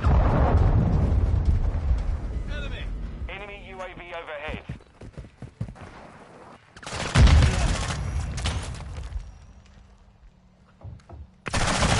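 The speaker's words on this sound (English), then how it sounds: "just launched a cruise missile." Cruise missile launch and explosions in Call of Duty Modern Warfare II beta: dense rumbling blasts and rapid gunfire, with two sharp loud bursts later, under game voice chatter.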